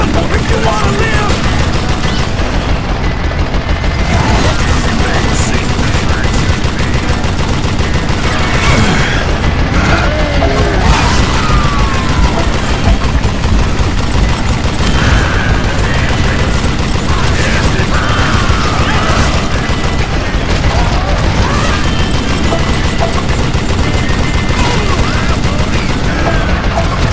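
Dense, loud gunfire from the Western shooter Call of Juarez Gunslinger, with rapid volleys, booms and crashing impacts layered continuously, and a voice faintly under the barrage.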